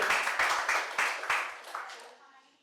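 An audience at a medical college quiz event claps loudly, a dense burst of applause that holds for about two seconds and then tapers off.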